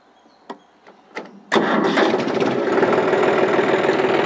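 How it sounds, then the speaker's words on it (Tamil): A tractor engine cranks with a couple of short clicks and bumps, then catches and settles into a loud, steady, rumbling idle that continues to the end. "இப்போ வண்டி வந்து ஸ்டார்ட் பண்ணுறோம்."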